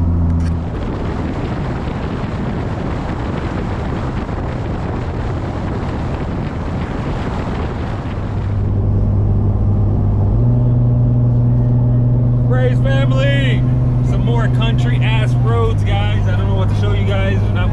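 A car with a four-speed automatic gearbox pulls in third gear on the road, its engine drone loud and steady under heavy wind rush, then drops to a lower rumble as the transmission shifts up while a voice talks over it.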